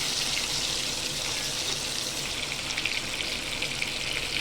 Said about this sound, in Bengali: আলুগুলো আগে ভাজা হবে